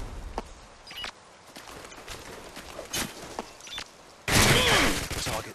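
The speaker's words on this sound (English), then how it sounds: "Target neutralized." Gunfire in Modern Warfare 2 gameplay: scattered sharp shots and short bursts with footsteps between them, ending in a louder, denser burst of fire near the end.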